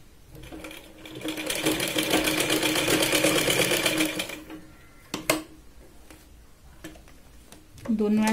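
Sewing machine stitching a tuck on a katori blouse: a fast, steady mechanical rattle running for about three seconds, then stopping, followed by a few clicks and handling sounds.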